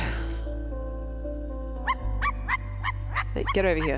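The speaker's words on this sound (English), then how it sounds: "Dog!" In the video game I Am Dead, a dog gives a run of short, bright barks and yips over a steady tonal game soundscape, while a voice talks briefly.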